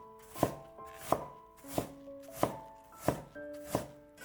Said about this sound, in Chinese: 再改刀切成细丝，尽量切细一些，口感会比较好。 最后切成小丁，